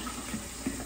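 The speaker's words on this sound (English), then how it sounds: "I'm just rinsing out bottles." Tap water runs and splashes while plastic Gatorade bottles are rinsed out, a steady, quiet hiss of flow with a few small bumps of water hitting plastic, and no speech over it.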